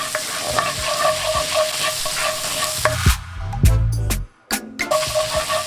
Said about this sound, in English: In with the garlic. Cook until nice and brown.